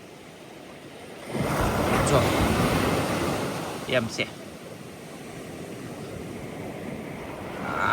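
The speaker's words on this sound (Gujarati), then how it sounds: "તમને બધાને દરિયો બતાવું મોજા બતાવું" Sea waves surging onto a beach during palva fishing: a broad, rushing wash swells up, holds, then slowly recedes, with steady wind buffeting the microphone and a voice speaking briefly over it.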